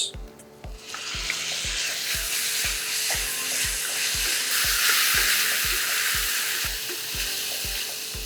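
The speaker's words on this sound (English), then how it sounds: "now I'm going to add the chopped tomatoes" Chopped tomatoes fry in ginger garlic paste for a spicy aloo bhaji, giving a loud, steady sizzle with stirring throughout and a regular, rhythmic scrape of the utensil against the pan.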